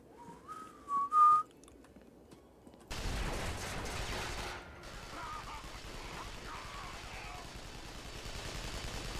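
A rising, wavering whistle sounds in short bursts during the Hellgate: London video game, followed by a loud burst of gunfire and a clatter of combat noise that continue to the end.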